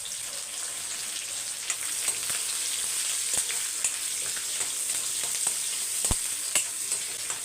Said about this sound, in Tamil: வெங்காயம் பாருங்கள் பாதி வதங்கிடுச்சு.